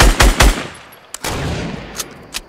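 Fortnite gunfire: a quick burst of three close, loud shots, then a single sharp crack, followed by a couple of fainter distant shots over a low background rumble.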